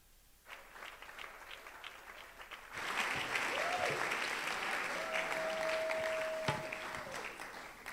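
An audience at a church gathering bursts into sustained applause to welcome a pastor to the stage. The clapping is dense and steady, with a faint tone and some voices mixed in.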